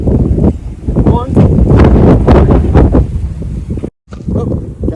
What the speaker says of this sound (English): it's another windy day out here in sunny South Florida